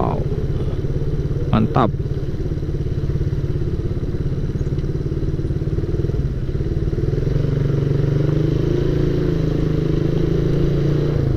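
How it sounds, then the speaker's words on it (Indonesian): A motorcycle accelerates away from a green light on a city street in Batam at night, its engine droning steadily and rising in pitch, with a brief clatter early on and a voice speaking briefly. "kita akan gaspol dulu karena kebetulan sekarang sudah lampu hijau"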